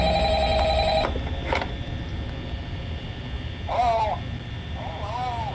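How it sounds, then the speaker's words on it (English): Phone ringing in the Five Nights at Freddy's: Help Wanted video game, a bright electronic ring tone that sounds for about a second and then stops, followed by a voice talking over a low background hum. "I thought I could hang up on Phone Guy."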